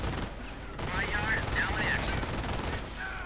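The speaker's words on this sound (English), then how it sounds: "Machine guns certainly proving a bit of a problem for Fealbo's Panzer Grenadiers." In a strategy video game, machine guns fire in rapid bursts amid a battle soundscape, fairly faint and mixed with background game noise and voices.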